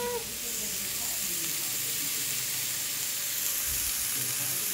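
Pieces of meat searing in a hot pan without oil, a steady, loud, close sizzle that runs throughout with faint clatter underneath.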